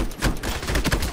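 Low-rate gunfire in the shooter video game Ironsight, a few spaced, punchy shots in a brief burst with no talk.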